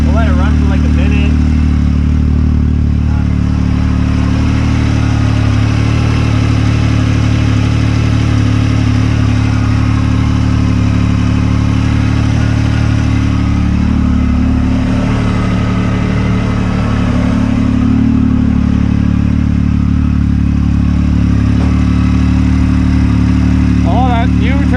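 A Yamaha YXZ side-by-side engine, freshly fitted with a turbo, runs steadily at a loud, even idle for the whole stretch, a constant low drone with little change in pitch.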